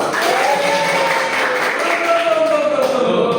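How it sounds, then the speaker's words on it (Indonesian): A class of students claps hands together in a classroom warm-up, a continuous patter of applause heard alongside voices. "tepuk tangan."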